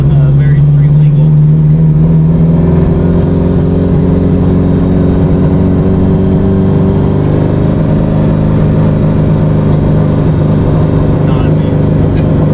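An 1100whp Subaru STI with a stock STI transmission drives along, its engine droning loudly and steadily from inside the car with a slowly rising pitch, while a voice talks faintly underneath.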